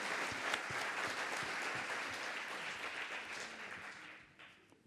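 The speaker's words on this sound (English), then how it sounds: "Give her a round of applause." Applause from a conference audience at an education and skills forum, thanking a panelist: steady dense clapping across the hall that holds for several seconds, then tapers off at the end.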